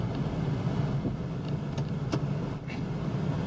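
A 2003 Ford Taurus wagon's engine idles and rumbles steadily up close as it is shifted and moved forward and back, with a few light clicks and taps.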